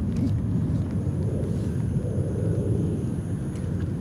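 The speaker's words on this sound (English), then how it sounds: "I quite annoyed by the sound from the plane." Airplane passing over a seaside park campsite in Singapore, a steady low rumbling drone that stays loud and constant throughout with no talking.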